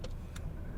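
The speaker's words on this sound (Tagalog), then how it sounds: "Dahan-dahanin lang habang umaatras." A car reverses slowly during a parallel-parking lesson, giving a brief, faint, steady low engine rumble with a couple of light mechanical ticks, with no voices.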